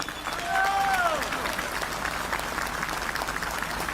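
A crowd applauds at a public address to welcome ten church bishops, with steady broadband clapping that swells early on and continues under a speaking voice.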